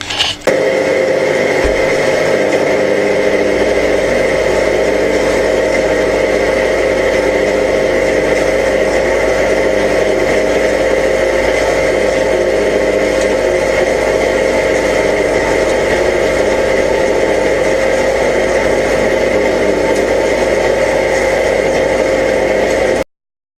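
Bandsaw running in a metal workshop, cutting a metal block: a loud, constant mechanical hum and whir held steady for over twenty seconds, with no talk.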